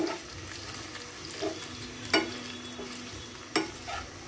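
Onions frying in a small amount of oil for magur catfish dopiaza, a steady low sizzle with a few sharp clacks of a spatula against the pan at intervals, no voices.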